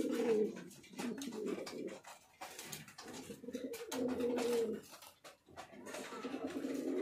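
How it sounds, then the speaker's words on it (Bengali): Black magpie pouter fancy pigeons in a loft give repeated low, throaty cooing phrases, close and clear, with faint background noises and no talk. "ব্ল্যাক ম্যাকপাই পটার আছে একজোড়া।"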